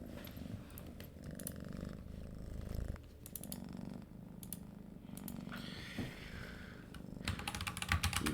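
A cat purrs steadily and softly near a computer keyboard while keys are tapped in irregular bursts, the low purr running continuously beneath the clicking.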